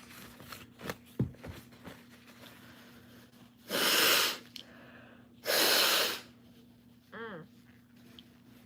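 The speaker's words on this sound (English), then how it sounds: "I gotta blow my nose." Two loud, forceful nose blows a couple of seconds apart, with quiet shuffling before and a brief voice afterward.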